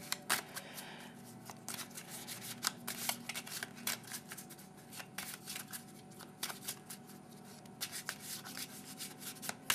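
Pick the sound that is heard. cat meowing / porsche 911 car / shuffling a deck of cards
shuffling a deck of cards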